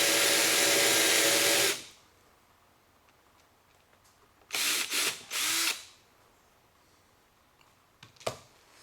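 A power drill with a Forstner bit whirs loudly for a couple of seconds, then stops; after a quiet pause it runs again in three short bursts, followed by a brief click, close up with no talk.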